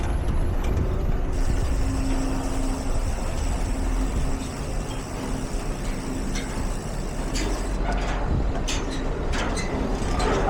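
Slow traffic sits jammed on a bridge in the Gard, trucks and cars idling: a steady, loud rumble of engines and road noise, with a hiss like an air brake and a few sharp clanks near the end.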